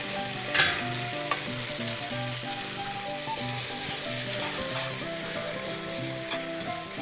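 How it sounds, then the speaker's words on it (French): Spaghetti tossed into a pan of sizzling lardons for carbonara, giving a steady, close frying crackle with stirring and scraping throughout and a couple of brief clinks near the start. "La recette étant bien sûr d'incorporer les pâtes avec le jus dans les lardons"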